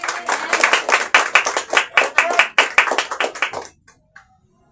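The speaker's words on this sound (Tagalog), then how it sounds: "Sige po, tuloy-tuloy ang palakpak para sa Diyos." A church congregation claps together during a testimony portion of an anniversary service, a loud burst of rapid, overlapping claps that keeps going for several seconds before stopping abruptly, followed by a couple of faint stray claps.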